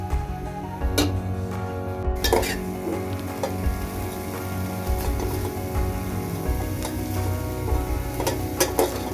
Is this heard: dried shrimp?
yes